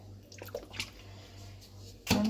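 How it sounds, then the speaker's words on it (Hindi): Lemon juice poured into a bowl while preparing chicken cheese boti, a brief liquid splash and trickle arriving near the end after quiet kitchen sounds. "2 टेबल स्पून डालेंगे आप इसके अंदर लेमन जूस"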